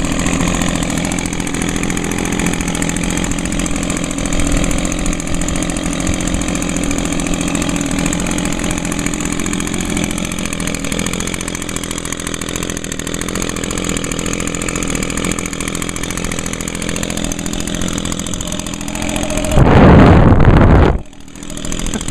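An Echo PB 251 handheld leaf blower runs steadily at idle after a one-pull start, its small two-stroke engine droning close and continuous, then briefly revving louder near the end before settling back.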